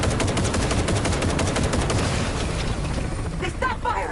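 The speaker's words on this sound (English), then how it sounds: "They stop firing!" Heavy, continuous automatic gunfire in Cyberpunk 2077, loud and rapid with overlapping shots filling the whole stretch, a few trailing ricochet-like whines near the end.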